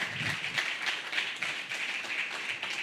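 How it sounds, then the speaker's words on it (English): A room of attendees at a venture studio startup demo day claps for the presenting startups, a steady, moderately loud patter of many hands with no voices over it. "let's give our startups a big round of applause"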